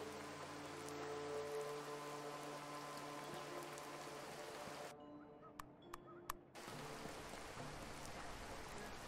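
Steady rain falls in the video game Dreams in the Witch House, a constant soft wash with a low hum that briefly drops out near the middle before resuming.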